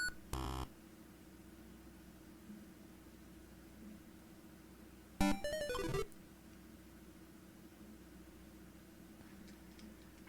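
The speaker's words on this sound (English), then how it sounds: "That buzzing is the sound of me pressing the color swap option on the Super Game Boy" Super Game Boy color swap option buzzing: two short harsh electronic bursts, a brief one at the start and a longer stuttering one about five seconds later, over a low steady hum.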